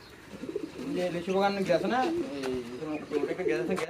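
A pigeon coos close by in repeated soft, throaty rolls, with people talking over and between the calls at a pigeon market.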